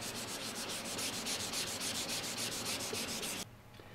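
Aluminum being sanded by hand, a close, steady back-and-forth rasping in even rhythmic strokes that stops abruptly near the end, with no voices.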